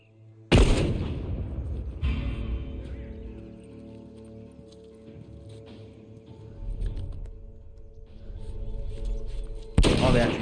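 An explosion in the video game The Last of Us Part 1 bursts loudly at the start, followed by a long rumbling, crackling decay with gunfire-like noise, and a second sharp blast near the end.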